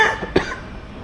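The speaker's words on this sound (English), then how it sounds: "stop coughing now" A single short cough from a person, close and loud, alone with no talking.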